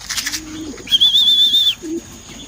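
Homing pigeons coo in short low bursts at close range during a training session, alongside a thin high chirping note.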